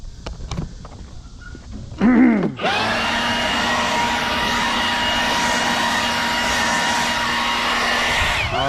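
A leaf blower roars to full power after a brief rising rev, then blasts steadily and loudly to clear debris out of a crevice onto the grass, a continuous close whoosh without talk.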